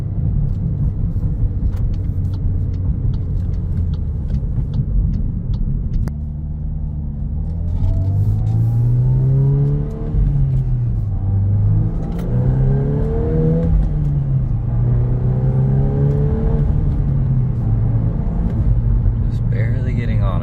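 A 2024 Volkswagen Golf R 2.0T engine hums and rumbles steadily from inside the cabin, then rises and falls in pitch as the car accelerates through gears.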